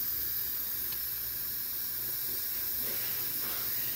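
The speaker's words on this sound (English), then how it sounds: "so I'm gonna release my steam." Steam venting from an Instant Pot pressure cooker after cooking chicken, a steady broadband hiss held at constant level for the full stretch with no talk over it.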